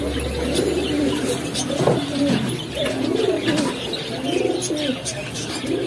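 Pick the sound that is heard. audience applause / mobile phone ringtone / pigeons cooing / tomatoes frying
pigeons cooing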